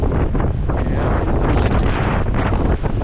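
Gale-force wind around 40 knots roars steadily across a doublehanded racing sailboat in the Atlantic Ocean, a loud, continuous buffeting rush with no pauses and no voices.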